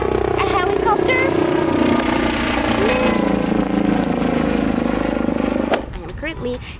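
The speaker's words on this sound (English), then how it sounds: "A helicopter?" A helicopter passes over Parque Ibirapuera in São Paulo, Brazil, its loud, steady rotor drone filling the air before dropping away near the end, with a voice talking over it.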